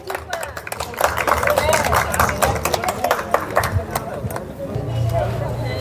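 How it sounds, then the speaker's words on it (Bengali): An audience claps steadily in a hall as a guest is welcomed with a bouquet at a hibiscus cut-flower show, dense applause lasting several seconds before tapering, with murmuring crowd voices underneath. "সকলের কাছে একটা করতালি।"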